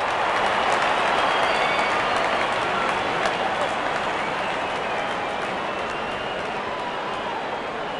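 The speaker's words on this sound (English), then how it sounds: "The crowd is enjoying every bit of this action." Crowd cheering and applauding at a Canada vs Oman one-day international cricket match after a six, a steady broad roar held at a constant loud level.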